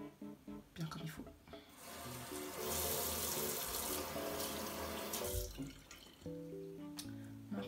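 Tap water runs steadily into a sink as a face is rinsed, a continuous splashing stream with brief drips and handling noises at the start and end, close and fairly loud.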